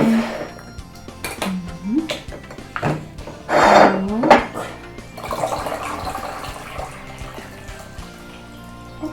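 Water is poured into a jar of pickled cucumbers in several separate pours. The gurgle rises in pitch as the jar fills, with clinks and kitchen handling noise between pours.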